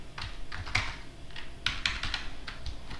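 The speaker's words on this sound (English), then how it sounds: "and then I just type http.server" Computer keyboard typing as a command is entered, a quick irregular run of light, close key clicks over a quiet room with no talking.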